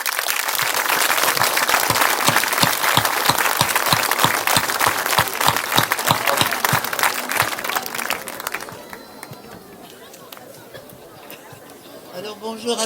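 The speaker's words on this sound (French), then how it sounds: "Je crois qu'on peut tous s'applaudir" A gathering at a baptism celebration, with volunteers, teachers and children present, breaks into lively clapping for about eight seconds, then fades to murmuring crowd chatter as voices talk in the background.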